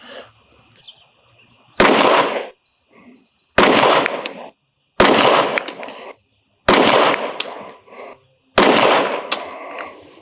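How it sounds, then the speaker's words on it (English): Five loud pistol shots from a Rost Martin RM1C fired at 10 yards on a range, each a sharp crack with a short ringing decay, spaced roughly every one and a half to two seconds. "First 5 shots ever fired out of the gun at 10 yards."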